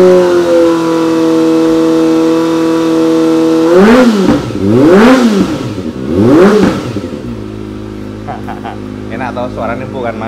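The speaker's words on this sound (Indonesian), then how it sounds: "Nah ini manasin ZX25R" A Kawasaki ZX25R motorcycle engine idles steadily while warming up, then is blipped through three sharp rising-and-falling revs before settling back to a rougher idle, loud and close with no talk over it.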